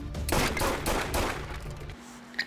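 A loud burst of rapid gunfire from a scene in the TV show Lucifer, with several quick shots in succession before it drops to quieter room sound.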